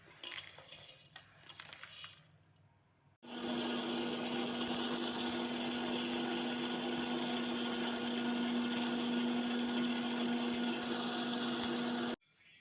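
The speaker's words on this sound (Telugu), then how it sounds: "వేగినవి జార్లో వేసి మిక్సీ పట్టాలి" A mixer grinder grinds fried ingredients into powder. Brief clinking of the jar leads into a loud, steady motor whine that runs for about nine seconds and then cuts off abruptly.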